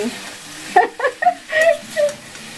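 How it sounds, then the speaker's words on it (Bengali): Pumpkin and drumstick vegetables fry with salt, turmeric and a split green chilli in a pan, stirred in a few short scraping strokes over a low, soft sizzle. "সেটা দিয়ে ভালো করে আবারও ভেজে নিচ্ছি"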